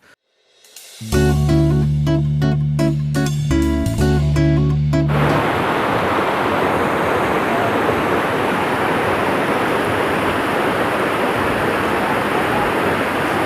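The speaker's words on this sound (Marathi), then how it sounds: "समोर काही जण भिजत आहेत वॉटरफॉल आहे" A few seconds of loud, tonal harmonic sound give way to the steady, heavy roar of Ekiw waterfall near Kaas Plateau, with people bathing, continuing to the end.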